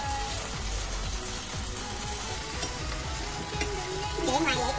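Noodles and other food frying and being stirred in a hot pan, a steady close sizzle with scraping stir strokes throughout and no talk.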